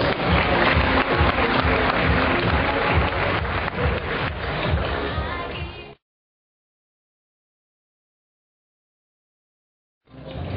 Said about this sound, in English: Mr. Gilbert, give him a big round of applause, please.